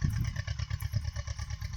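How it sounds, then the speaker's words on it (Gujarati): A tractor runs while sowing wheat in a farm field, its engine giving a low, fairly faint rhythmic chugging that pulses steadily throughout. "તો જુઓ ટ્રેક્ટર હાલે છે અને ઘઉં વવાય"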